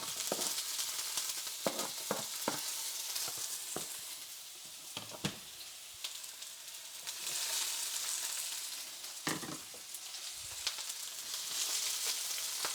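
Mixed vegetables frying in coconut oil in a pan give a steady, close hiss, with sharp pops and spatters crackling through and stirring scrapes now and then, no talking.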